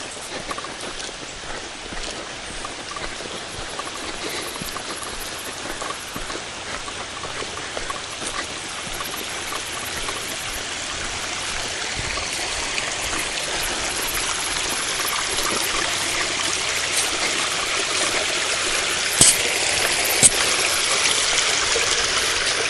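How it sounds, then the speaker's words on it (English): The St. Croix River flows steadily along the Minnesota-Wisconsin boundary, a continuous soft rush and trickle of water that builds slightly toward the end, with no voices. "Check out this river down here, folks."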